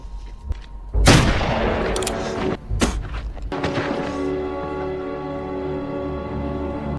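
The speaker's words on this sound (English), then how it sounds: "coldly draws his gun, firing a shot that silences the boy in the dusty street" Gunfire rings out in a Western film's dusty street: several sharp, loud shots go off in quick succession, and a sustained ringing tone lingers after them.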